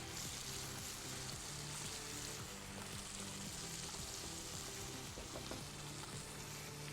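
Dumba karahi meat frying in a pan with a dense, steady sizzle and occasional soft stirring, faint and continuous.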